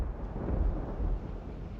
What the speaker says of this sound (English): Oh, I just heard some rumbling in the distance. That's thunder.